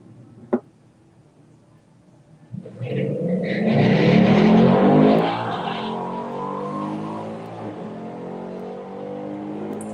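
A drag racing car launches off the line at a run-what-you-brung event, a sudden loud roaring surge that builds, then fades as the car pulls away down the strip, after a sharp pop.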